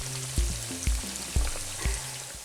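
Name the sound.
pork deep frying in a cast iron pot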